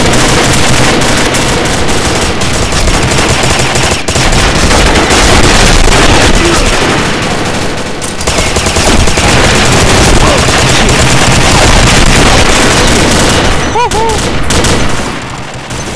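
A PP-19 submachine gun sprays continuous rapid fire in the Combat Arms video game, a long loud rattling burst with brief pauses and faint other game sounds.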